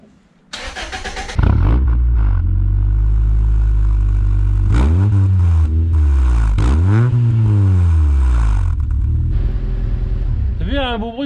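A Honda Civic EG engine starts, then idles loudly up close and is revved several times, pitch rising and falling in surges.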